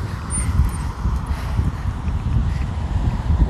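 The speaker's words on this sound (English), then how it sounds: "it's too windy" Wind buffets a microphone outdoors after a storm in northeast Calgary, with a constant low rumble and gusting roar, no other sounds standing out.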